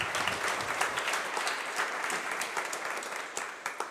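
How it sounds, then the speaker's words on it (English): Audience at an EU policy dialogue event applauding, a dense, steady clapping that holds close and loud throughout. "Let's give a clap to all those."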